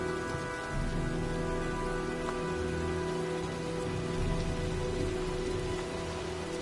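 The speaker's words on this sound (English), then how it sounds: "looks like a storm's coming" Steady rainfall in Heavy Rain, drops pattering constantly on surfaces in an even, unbroken wash as a storm gathers.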